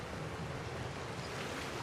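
Ocean waves and rushing water in a video game, a continuous soft wash of surf and wind-like noise, steady and fairly faint with no talk.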